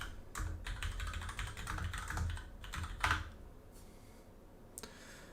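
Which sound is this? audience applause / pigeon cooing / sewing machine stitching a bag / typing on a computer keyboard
typing on a computer keyboard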